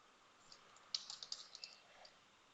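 Quick keystrokes on a computer keyboard, a short run of about eight faint, crisp clicks clustered in the middle, typed quietly in an otherwise still room.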